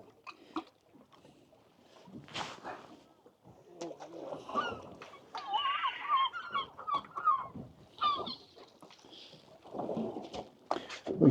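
Seagulls squawk and call repeatedly around a fishing boat at sea above a wreck, the cries coming in bursts with some faint voices and boat noise beneath.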